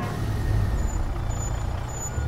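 A heavy truck in Mafia Definitive Edition pulls to a stop with a low, steady engine rumble and a faint high brake hiss, loud and continuous with no voices over it.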